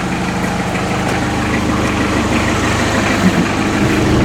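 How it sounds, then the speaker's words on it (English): A 1986 Ford Escort 2.0L diesel wagon engine idles steadily at close range, a continuous low, even rumble with a faint mechanical clatter and no voices over it. "But the idle sounds totally normal."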